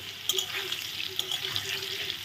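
Large-cut potato chunks with salt and turmeric fry steadily in a pan, giving a continuous soft sizzle with light crackling pops throughout, close and moderately quiet.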